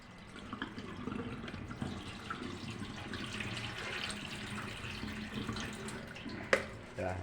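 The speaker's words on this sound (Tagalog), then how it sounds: "Sa tapon mo yung tubig." Running water splashes steadily as water is poured off rice into a sink, with a brief sharp clatter near the end.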